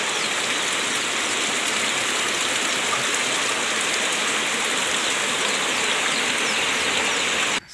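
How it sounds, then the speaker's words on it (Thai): Steady monsoon rain falls heavily over rice paddies during planting, a dense constant hiss of drops on surfaces with no pauses, close and even from start to finish. "ฝนตกพี่น้อง"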